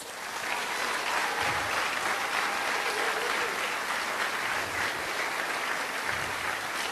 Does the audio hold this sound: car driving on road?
no